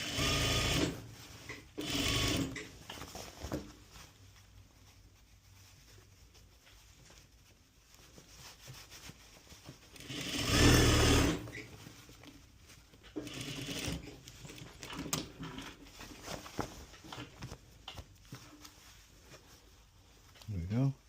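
A straight stitch sewing machine hems a pant leg, running in close, rapid mechanical bursts that start and stop across the stretch, with quieter handling between runs and a loud burst near the middle.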